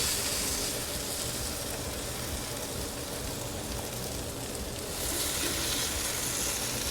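Smoked beef and onions sizzling on a Blackstone griddle, a steady hiss and crackle like rain that carries on evenly throughout.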